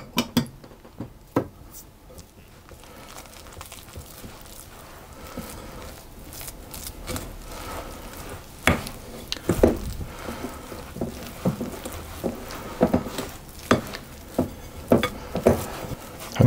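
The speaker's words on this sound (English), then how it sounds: "we just want to mix this and then use our hand to pull it together" Yoghurt cookie dough is stirred with melted butter and then worked by hand in a bowl, producing soft squelching, scraping and irregular clunks of utensil on bowl, close and steady with no talking.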